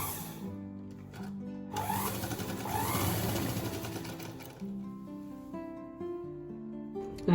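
A sewing machine stitches straight pants, running in a steady close-up whir that rises and falls in speed, with brief pauses between bursts.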